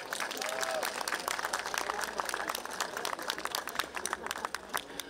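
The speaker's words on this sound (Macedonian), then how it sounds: "Дајте аплауз." Applause from a crowd gathered in a cathedral during a Christmas Eve service in Skopje, steady and dense clapping filling the space for several seconds with a reverberant wash, no talk over it.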